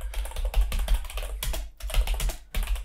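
Steady, fairly close typing on a computer keyboard, with rapid keystrokes clicking continuously and short pauses near the middle and end, with no talk over it.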